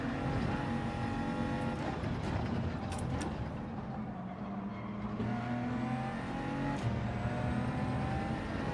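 BMW race car in the Gran Turismo 7 racing game, its engine roaring steadily and close throughout, with revs climbing and dropping through gear changes, no talk over it.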